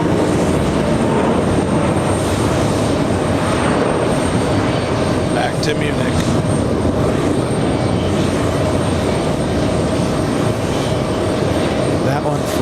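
Lufthansa airliner departing JFK airport for Munich, a loud, steady broadband engine roar that holds for the whole stretch, with a person briefly speaking over it.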